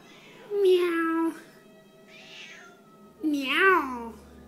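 Two drawn-out, loud cat meows separated by a quieter whine, close up and otherwise quiet.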